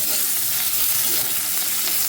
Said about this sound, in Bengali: কুচনো পেঁয়াজগুলো দিয়ে ভেজে নেব।